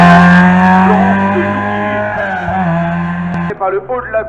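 A yellow Renault GT Turbo climbs a historic-vehicle hill climb at Bagnols-Sabran, its engine note sweeping loud and close before cutting off abruptly, with a voice talking over it.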